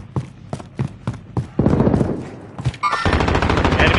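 Assault rifle fire in a video game comes as several sharp, separate shots, then a dense rattling burst. A louder, continuous spray of gunfire follows near the end.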